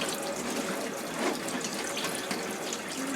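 Cold tap water runs steadily into a kitchen sink while freshly picked wild purslane is rinsed, making a close, continuous splashing hiss with no talk.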